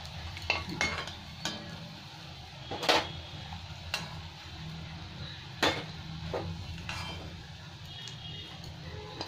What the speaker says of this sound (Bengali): এবার আমি এই তেলের মধ্যে একটু তেজপাতা, গোটা জিরে, শুকনো লঙ্কা ফোড়ন দিয়ে দেবো